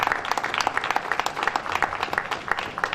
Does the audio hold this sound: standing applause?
yes